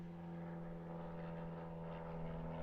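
Pitts aerobatic biplane with a 200 horsepower Lycoming engine flying at an aerobatics championship, a steady propeller drone that is faint and distant, slightly swelling toward the end.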